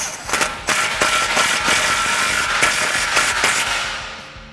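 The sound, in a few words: 16mm socket on 3/8 gun tightening exhaust clamp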